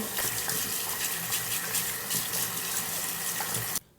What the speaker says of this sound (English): First, I'm gonna rinse these off with water.